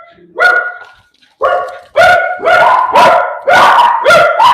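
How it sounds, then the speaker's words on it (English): A dog barks loudly and repeatedly, close up, in a run of sharp, slightly howling barks coming in quick succession. "No barking. Okay, I hear you."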